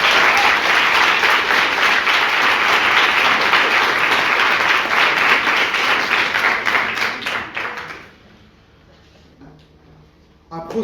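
A crowd at an eloquence-contest mock trial about Netflix applauds two introduced speakers with loud, sustained clapping for about eight seconds, then it drops away abruptly into near quiet with faint voices and a brief knock.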